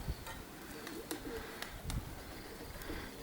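A pigeon coos softly a few times outdoors, low and faint beneath gusty wind buffeting and scattered clicks.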